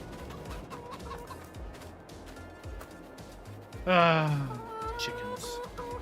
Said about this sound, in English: Chickens. Little chickens.